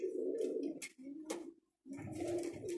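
Pigeons coo in a pigeon loft during evening chores, with close, repeated throaty coos in uneven phrases and a short pause in the middle.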